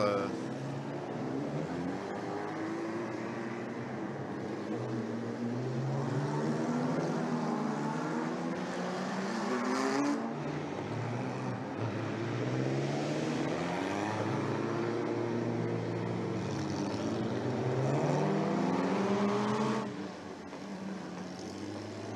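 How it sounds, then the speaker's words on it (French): Bugatti Type 35B race car at the Circuit des Remparts in 2017, its engine loud and continuous, with pitch repeatedly rising and falling as it revs and shifts across about twenty seconds. "La 35B, c'est sans doute la Bugatti de course la plus emblématique qu'ait conçue Ettore Bugatti."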